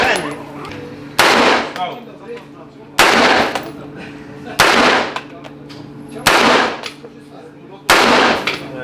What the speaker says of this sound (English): How many rounds you shoot?